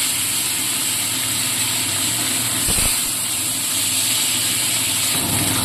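A steady loud hiss of fish frying in hot oil for a Bengali recipe, with a brief thump as more fish drop in midway, the sizzle continuing unbroken throughout.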